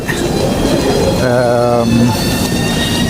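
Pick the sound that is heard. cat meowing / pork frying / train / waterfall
train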